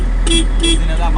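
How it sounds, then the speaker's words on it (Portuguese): An automatic wheel loader's horn sounds in two short, loud toots close by, with the machine's engine running steadily underneath. "buzina da máquina"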